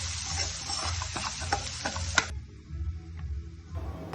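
Fresh ginger garlic paste is stirred into onions frying in a pan. Close scraping and clinking of a spoon sits over a steady sizzle, and the frying noise drops away partway through.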